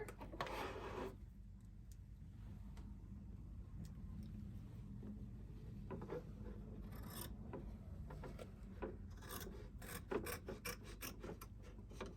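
Fabric is cut for a sewing project, steady scraping, rasping strokes over a constant low hum, with sharper bursts of snipping near the start and toward the end.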